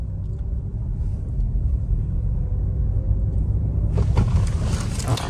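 A vehicle creeps slowly along a local road, giving a steady low rumble that swells slightly near the end with a brief burst of brighter road noise.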